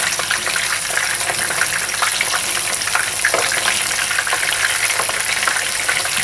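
Squid sizzles and crackles steadily in hot frying oil, a dense, close, continuous bubbling hiss with small pops and no voices.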